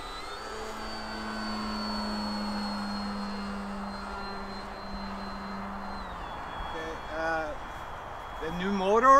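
FMS PA18 Super Cub RC model airplane flying with a new motor, a steady electric motor whine and drone passing at moderate distance, pitch shifting as it goes, with a voice speaking near the end.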